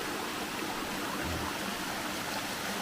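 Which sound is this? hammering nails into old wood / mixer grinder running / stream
stream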